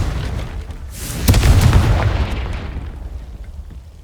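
A Confringo fire spell explodes in Hogwarts Legacy with a single deep, heavy boom that swells and then rolls away into a long rumbling tail.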